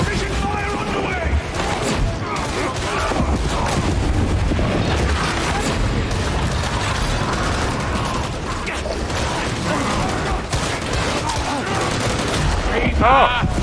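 Dense gunfire from Warhammer Darktide, rapid overlapping bursts and mechanical clatter running throughout, with shouted voices mixed in.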